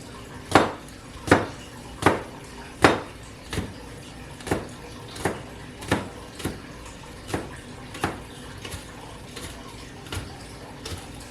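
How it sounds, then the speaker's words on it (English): A knife roughly chops scallions on a cutting board for wonton filling, about fourteen sharp, evenly spaced knocks that begin loud and grow slightly softer, close by with no talking. "Give it a rough chop."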